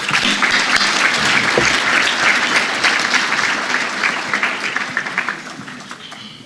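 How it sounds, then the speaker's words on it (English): Sustained audience applause in a conference hall for a moderator and panel at a 2013 Africa Braintrust session, a dense steady wash of many hands that holds strong and then thins slightly toward the end. "we need another round of applause for an incredible moderator and a wonderful panel"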